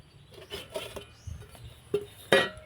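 Potato curry is spooned into a bowl with light clinks of a spoon against dishes, a few separate taps ending in a sharper knock, close and quiet.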